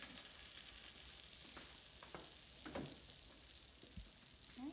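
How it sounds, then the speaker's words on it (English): Soft, steady sizzling of caramel apple French toast frying in a pan, with occasional faint scrapes and taps from a utensil. "you'll hear it sizzling"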